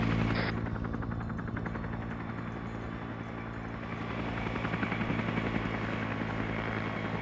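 A helicopter in a Vietnam War combat game lifting off, its dense rotor thump and turbine whine droning loud and steady throughout, with no voices over it.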